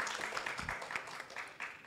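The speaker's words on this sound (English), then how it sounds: "Let's give a final round of applause to Mark Harrison for his talk" Applause fills a symposium room at the end of a wildlife biodiversity conservation talk, with a brief burst of steady clapping from a modest audience, moderately faint and heard at a distance.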